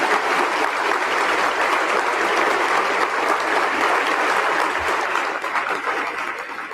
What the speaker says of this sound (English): So one more round of applause for